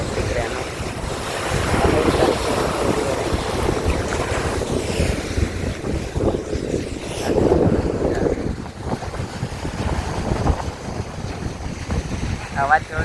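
Sea waves and wind on the shore at Alang shipbreaking yard in Gujarat, a steady broadband wash of surf with gusting wind buffeting the microphone, loud and continuous throughout.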